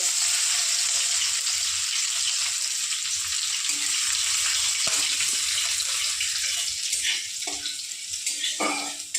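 Crushed garlic sizzles in hot oil for a tempering, a bright continuous frying hiss heard up close, with a few soft knocks and clinks toward the end and no speech.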